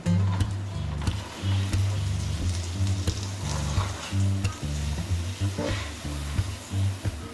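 Dough stirred with ghee in a hot pan makes a soft sizzle with rhythmic scraping and stirring strokes, close and steady, without speech.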